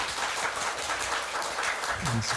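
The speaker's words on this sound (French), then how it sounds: "je vous demande d'applaudir un peu plus chaud." Studio audience at a quiz game show claps in a dense, continuous burst of applause, loud and even from start to finish.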